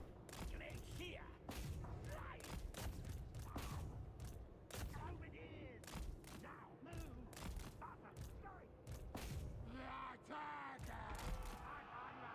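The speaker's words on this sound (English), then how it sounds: "I'm gonna have 1 warp lightning cannon shoot at a wild rider" Warp lightning cannons fire during a Total War Warhammer 3 battle, a dense run of sharp cracks and booms over constant battlefield clatter and rumble.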